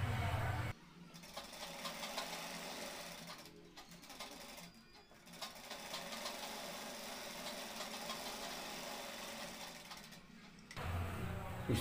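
A sewing machine double-stitches a seam on pure cotton women's shorts, a continuous close mechanical whir with brief pauses and a low motor hum throughout.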